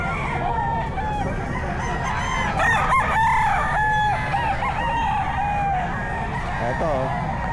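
Several roosters crow repeatedly at a crowded Bocaue pet market, with overlapping, strained calls and some clucking over a dense background of chatter and market noise; someone talks nearby throughout.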